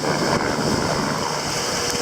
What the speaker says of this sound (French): Beaucoup de vagues, très impressionnant.